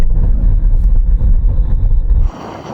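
Aston Martin DBX 707 and Lamborghini Urus braking hard during a brake test: heavy low road rumble and wind noise that drops off abruptly as the vehicles come to a stop, leaving a quieter hiss.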